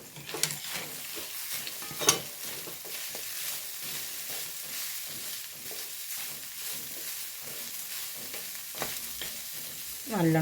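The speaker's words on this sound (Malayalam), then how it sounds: "നമ്മൾ നാളികേരം മൂത്ത് വരുന്നുണ്ട്" Grated coconut, curry leaves and garlic frying in sesame oil for a sambar seasoning, a dense steady sizzle with scraping stirring strokes and an occasional louder clack of the utensil, close and continuous without talk.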